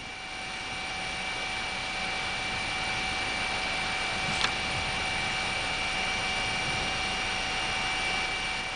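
A helicopter flying about 10 kilometers from an erupting volcano's crater, heard from inside the cabin as a loud, steady broadband engine and rotor roar with constant tonal whine, continuous and unchanging throughout.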